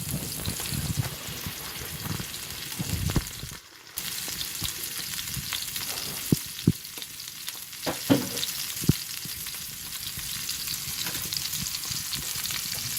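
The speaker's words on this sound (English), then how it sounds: "You want some really nice sear on it." Moose striploin sears in a hot pan with a steady, close crackling sizzle, broken by a brief dip and a few sharp pops and spatters; no one speaks.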